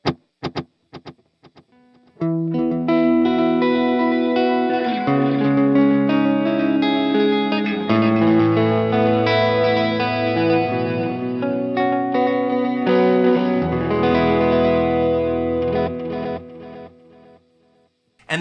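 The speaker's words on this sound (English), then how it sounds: "Here is our delay setting." Electric guitar played through a Line 6 POD Go modeler with a delay effect set fully wet, giving sustained chords and notes trailed by repeating echoes. It is loud and alone, with no talking.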